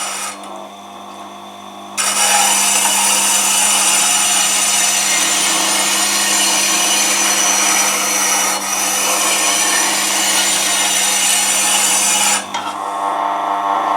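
A woodturning tool held in a sharpening jig clamped on a bar is ground against a sharpening stone, a continuous loud abrasive hiss that starts abruptly, holds steady for about ten seconds, then stops.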